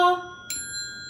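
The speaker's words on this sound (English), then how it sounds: "today I'm going to ring all the bells and sing them for you" A set of musical hand bells rings for a solfège lesson: one bright tone decays, then a second bell is struck with a sharp, shimmering attack and rings on steadily, close and clear.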